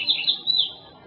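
Fox sparrow song in the Sierra Nevada: a short run of clear, high whistled notes rising and falling in quick succession, fairly close and alone over faint background.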